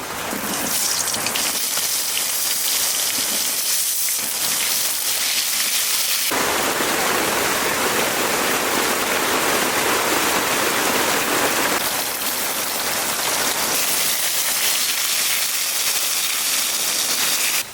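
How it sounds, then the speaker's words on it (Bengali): Potato pieces fry in oil with a loud, steady hiss, a dense rain-like sizzle that swells louder midway and continues without pause. "তেলের মধ্যে আলু কয়েকখান ভাজে নেব"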